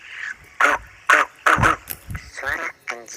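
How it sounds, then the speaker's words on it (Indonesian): A dog lets out a run of short, sharp barks and yips in an uneven rhythm, about seven bursts close up, with brief silences between them. "Suara anjing."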